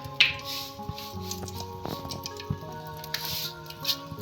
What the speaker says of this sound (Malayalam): കടുകിടാം